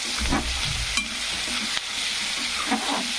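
Potatoes frying for pulao give a constant close sizzle, with a few scraping stirs and soft clinks from a spoon against the pan.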